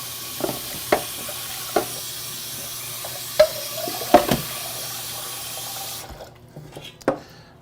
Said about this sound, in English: Put about half the water in.